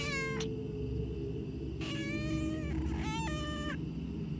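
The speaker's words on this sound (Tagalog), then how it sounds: "Nakarinig ako ng isang malungkot na ungol mula sa pusa ko." A domestic cat lets out mournful, drawn-out meows: one short cry, then two longer wavering wails, over a constant low indoor hum.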